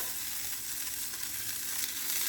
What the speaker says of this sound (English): Now I'm gonna fry it for real